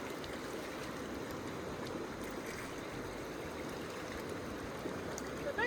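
Water sloshes and swirls steadily in a gold pan being washed in a stream, a soft continuous gurgling wash at moderate distance with a slightly louder splash at the end.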